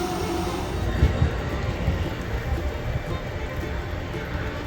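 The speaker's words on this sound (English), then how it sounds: "Train." Steady rumbling of Amtrak's California Zephyr passenger train rolling along, broadband rattle and whoosh with some bumps, no voices.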